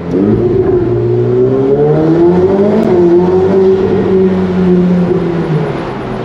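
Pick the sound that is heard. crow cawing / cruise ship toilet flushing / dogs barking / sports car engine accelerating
sports car engine accelerating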